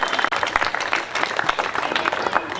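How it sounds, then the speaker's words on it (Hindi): An audience applauds Sharad Sahab at a celebration honouring his 25 years of selfless service, a dense, steady wash of clapping from a sizeable crowd that holds for the whole stretch. "शरद साहब के लिए बहुत जोरदार तालियां।"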